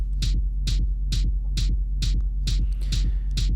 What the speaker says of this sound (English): the hard one is clipping distortion with bass boost